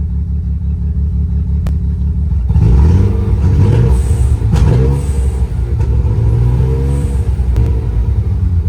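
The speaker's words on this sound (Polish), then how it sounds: "Andrzej, daj mu gazu" A Mazda RX7 FD sits idling with a loud, steady engine rumble, then is revved up hard and held at higher revs, close by and with no talk.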